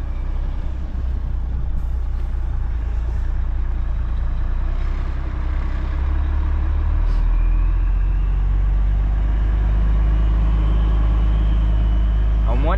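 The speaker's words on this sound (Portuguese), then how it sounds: "Um monte de caminhão lá, um monte de carreta" Many trucks and semi-trailers idle together at a loading site before dawn, a deep continuous engine rumble that swells louder later, with occasional air-brake hisses and a voice speaking over it.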